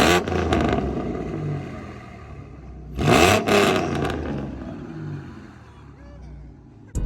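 A Ford Mustang 4.0 running catless on shorty headers with an H-pipe and no mufflers revs up loudly and close by, one sharp burst mid-clip rising above a rumbling idle, with voices talking over it.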